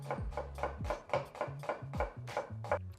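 A knife cuts an onion into thin slices on a board, about ten crisp, evenly spaced chops close up in steady rhythm, with no one speaking.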